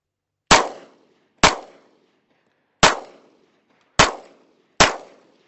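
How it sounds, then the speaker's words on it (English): Five sharp, loud Glock pistol shots fired one at a time at slightly uneven intervals, each a crisp crack with a short ringing decay and clear silence between them. "let's go ahead and finish off these rounds on this Glock"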